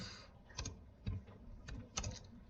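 Typing on a computer keyboard while working in Excel, a few soft, close key presses in small irregular clusters over a quiet room background.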